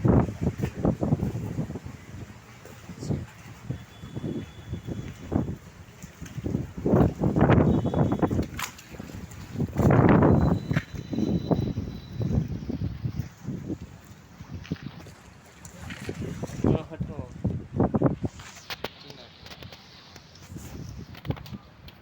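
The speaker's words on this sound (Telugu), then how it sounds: "చాలా మంచిగా గాలి కూడా వీస్తుంది" Wind blowing across a lake near a sluice, rumbling into the microphone in uneven gusts that swell and fade, loud and close, with a few faint tones in the background.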